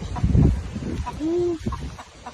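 A chicken kept alongside a monkey, its tail and back feathers pecked ragged, gives a few short clucks and one drawn-out call close by, mixed with other nearby noises.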